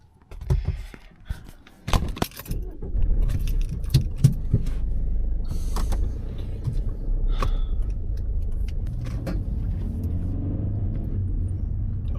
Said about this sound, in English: He jumps into his car, with Archie beside him, and speeds away.